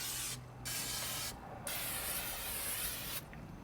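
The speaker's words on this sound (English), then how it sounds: "spray a little bit." Three short bursts of spray hiss as oil is sprayed onto a smoker, close and fairly quiet, with brief pauses between them.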